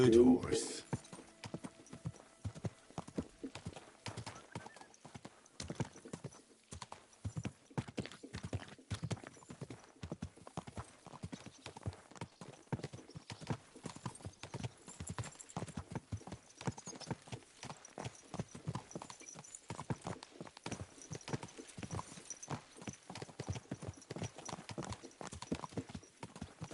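Horse hooves clip-clop steadily in the video game Kingdom Come 2, a continuous rhythmic trot of close, moderate hoofbeats running throughout, with a voice speaking occasionally over them.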